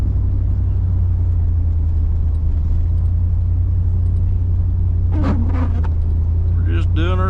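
A truck engine labors and grunts with a steady low rumble while driving on a snowy winter road, continuous and close throughout, with a person speaking briefly near the end.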